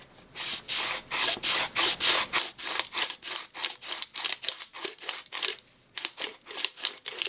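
Rhythmic back-and-forth scraping of a slicer blade against a thin aluminum can, about a dozen quick strokes in steady succession, close and fairly loud.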